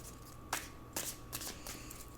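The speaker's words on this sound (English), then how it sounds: "I have to shuffle this carefully because this deck is very slippery when I do it the normal way" A slippery tarot deck is shuffled in a few quick riffling bursts, close and soft, with no voices.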